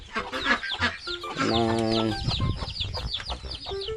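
Hens cluck and cackle in a busy chorus close by, with a rooster-like drawn-out call in the middle and scattered bird chatter around.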